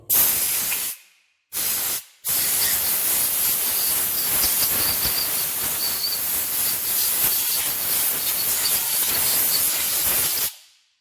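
Loud bursts of compressed air hiss close up, blowing dust from a VW Golf 5 1.6 clutch area: two short blasts followed by a long continuous spray that cuts off abruptly.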